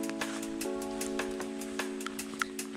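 Rain falls steadily in a rural Thai setting near a fishing trip. It makes a continuous soft patter with scattered sharper drop ticks, and a steady tonal hum runs underneath.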